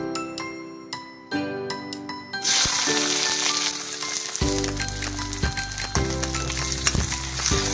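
Oil in a hot kadai (wok) starts to sizzle and fry loudly, with a steady crackling hiss that builds. Metal clinks of a spatula stirring come through it, and nobody talks. It is part of cooking a tomato and pea dish.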